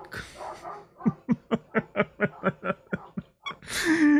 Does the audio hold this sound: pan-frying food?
no